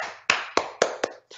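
Hands clap five times in a steady, slightly quickening rhythm, sharp and close, each clap alone in a quiet room, demonstrating applause.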